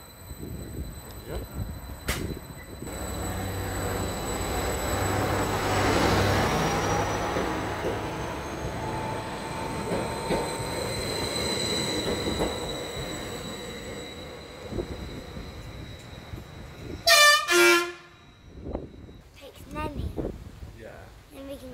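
A train at Dullingham station runs through a rumbling, squealing pass with loud horn blasts near the end, while people talk on the platform.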